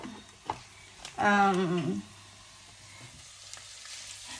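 Ground beef frying in a pan, with a soft steady sizzle throughout and a brief louder tonal scrape or squeal near the middle.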